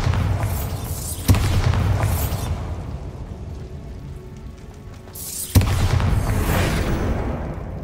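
Bombarda spells going off in Hogwarts Legacy: two sharp explosive booms a few seconds apart, each bursting loud and fading into a hissing, crackling tail.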